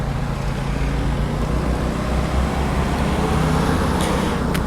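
A food-delivery courier's motorcycle riding a long stretch through road traffic, heard as a steady, loud rush of wind and engine roar with passing-vehicle noise, constant throughout.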